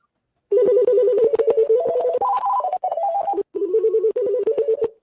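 An electronic telephone ringer trills in rapid warbling bursts, stepping up and down in pitch, loud and close, with a brief gap partway through.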